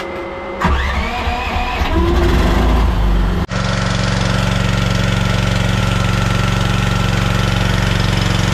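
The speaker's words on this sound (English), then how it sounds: "let it run for a couple minutes to get the engine and the oil warmed up" An Agt QK18RXS-C mini excavator's small engine starts with a sputtering crank, then settles into a loud, steady idle with an even mechanical drone running alone to the end.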